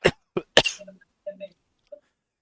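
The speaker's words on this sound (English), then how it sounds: "Coughing a lot for a second." A man coughs three times in quick, harsh bursts, followed by a few faint throat-clearing grunts and small vocal noises at close range.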